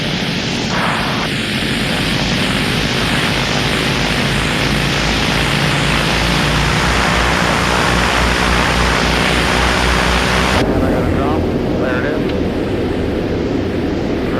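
Engines of a B-17 Flying Fortress bomber roar steadily during a run-up check at around 1,600 RPM, a loud continuous drone heard from close by that shifts in tone near the end.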